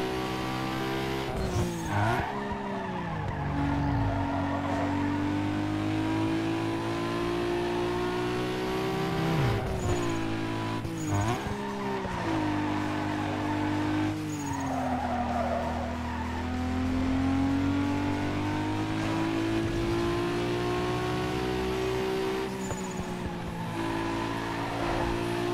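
A racing car in Need for Speed Underground 2 revs hard through repeated gear changes, its engine rising and falling steadily with bursts of tire skidding, loud and continuous throughout.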